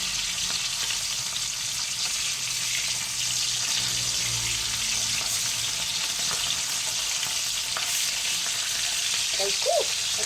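Fish frying in hot oil in a home kitchen, a steady soft sizzle and hiss running throughout, with faint clinks near the end.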